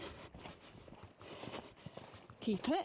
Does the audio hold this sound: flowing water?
no